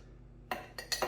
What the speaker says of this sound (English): So I'm just spreading it round with my spoon.